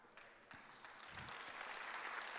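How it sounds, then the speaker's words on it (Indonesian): Scattered clapping from a church congregation during a sermon, faint and distant, swelling slightly toward the end with no one speaking over it. "Ini tepuk tangan setuju atau gimana nih?"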